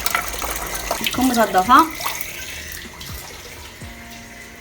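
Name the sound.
water poured to wash friselle without a tap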